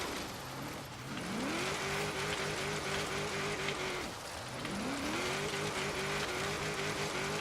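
A car drifting in Forza Horizon 3 whines through two long revving passes, its engine note climbing and then holding under a hissing tyre squeal. Each pass ends with a brief dip before the next surge, loud and close.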